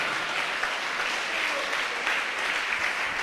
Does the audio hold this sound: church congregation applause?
yes